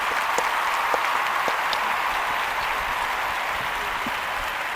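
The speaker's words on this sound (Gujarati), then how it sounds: "તો જોરદાર તાળીઓથી આવકારીએ શ્રી આરતીબેન પટેલને." An audience at a Gujarati talk show applauds as Aarti Patel is welcomed, giving sustained, dense clapping from a large crowd that holds steady and slowly eases off.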